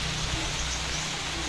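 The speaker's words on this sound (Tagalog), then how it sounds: "Umuulan." Rain falls steadily at a rabbit farm in a cool area, a soft even hiss with faint patter and no voices, fairly quiet and constant.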